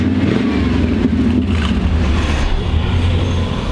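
A 1998 GMC Sierra SLT pickup with its exhaust cutout open gives a loud, continuous, deep engine roar with rising and falling revs, heard close up with no talking.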